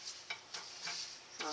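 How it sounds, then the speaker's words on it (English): A spoon stirs a thick, sticky mix of oats for no-bake blondies, soft wet swishes and scrapes repeating every half second or so, close and steady. "Stirring oats."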